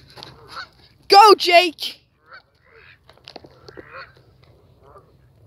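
Pet geese honk loudly in a short burst of several calls near the middle, with someone speaking briefly before and faint movement and quieter sounds afterward.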